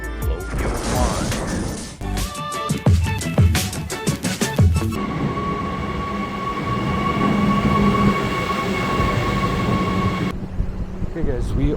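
Riding the upgraded railway from Pretoria to Saulsville, a train rumbles along with clattering wheel and coupling bangs in the first seconds, then settles into a steady droning roll with a faint tonal hum throughout.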